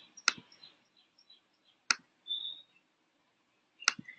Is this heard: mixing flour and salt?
no